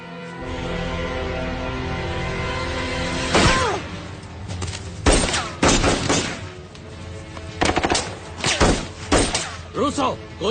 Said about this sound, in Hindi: गोली चलाना बंद करो